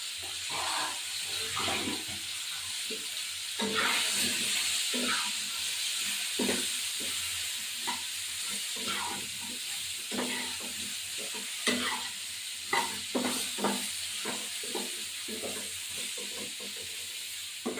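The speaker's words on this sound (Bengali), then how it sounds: "এবার একটু লবণ দেবো, ফুটিয়ে হলুদ গুঁড়ো, এবার একটু নাড়া দেবো।" Koi fish curry with cauliflower simmering as salt and turmeric are stirred in, giving a constant steamy hiss and bubbling with light, irregular scraping strokes from a spoon, close and fairly quiet, no talking.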